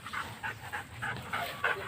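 A St. Bernard at a dog park gives a run of short, repeated barks and yips at an even rhythm, close and moderately loud over faint background chatter.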